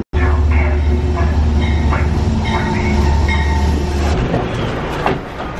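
A train runs along the rails with a steady, loud rumble and clatter, and faint squeals and clicks come through near the end.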